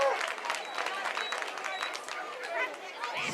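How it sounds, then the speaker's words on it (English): Fans cheer for the Vikings at a high school football game, a broad crowd roar with clapping and chatter at a distance, with a commentator talking over it. "still a good group of fans down here cheering on the Vikings"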